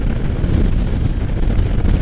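Heavy wind buffets the rider on a Can-Am Spyder F3 three-wheeled motorcycle, a loud continuous low roar of gusts with no talking.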